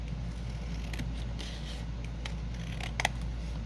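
Scissors snipping paper in a few faint, brief cuts over a steady low hum, with a sharper snip near the end, no talking.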